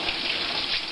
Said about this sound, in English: I sort of run a little water under it